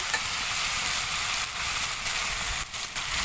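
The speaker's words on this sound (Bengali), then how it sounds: "আদা আর জিরেটা আমি খুব ভালোভাবে এখানে কষিয়ে নিয়েছি।" Ginger and cumin sauté in hot oil in a village kitchen, giving a steady close sizzle that runs unbroken with faint crackles and no voices.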